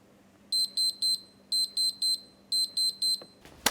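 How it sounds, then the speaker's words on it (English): A laboratory timer alarm beeps in three bursts of rapid, high-pitched beeps, each burst made of three short tones. The alarm is loud and close against a quiet room, and a brief rustle follows it. "our timer's gone off"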